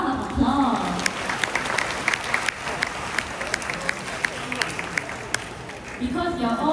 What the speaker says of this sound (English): I think you should all give yourself a big round of applause.